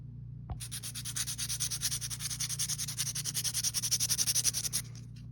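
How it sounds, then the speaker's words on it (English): Steady back-and-forth sanding strokes rasping against a hard plastic model car part, close and rhythmic, growing slightly louder over several seconds with a constant low hum underneath. "We're have to clean up the rest of it, probably with some files and some sanding sticks."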